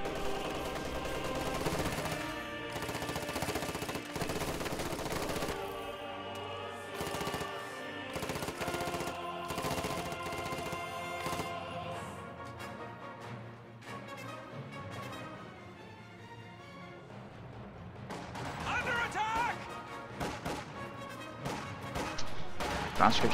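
Rapid machine gun fire in a strategy video game, dense rattling bursts over background music and battle noise, continuing through most of the stretch with more clatter toward the end.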